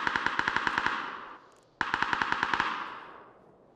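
Two rapid bursts of machine gun fire in PUBG, each a fast even string of sharp shots trailing into echo, separated by a brief pause, fairly close and without talk.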